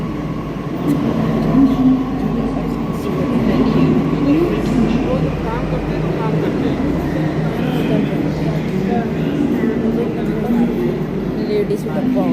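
Interior of a moving Delhi Metro train: a constant low rumble and rolling rail hum with faint squeals, while people talk over the steady ride noise.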